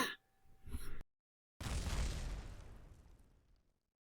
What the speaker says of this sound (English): The rescue rocket just snapped in half as I was trying to get it under control.